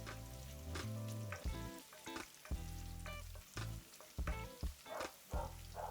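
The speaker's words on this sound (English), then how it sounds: "Next add the garlic and fry for another 30 seconds" Onions and garlic frying in a pan for red lentil curry, with a steady sizzle interrupted by repeated tonal clanks and scrapes of utensils against the pan.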